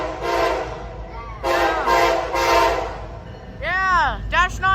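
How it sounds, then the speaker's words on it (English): An eastbound intermodal freight train sounds its ACC horn in loud, sustained chord blasts, with a gap between them, followed by shorter rising and falling horn sweeps near the end. Engine rumble runs beneath throughout. "Very good horn show."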